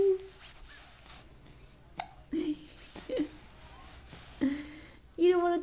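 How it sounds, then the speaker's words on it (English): A baby's hiccups, several short, sharp voiced bursts spaced irregularly about a second apart, close and clear, with faint adult talk and soft baby sounds between them. "Just hiccups."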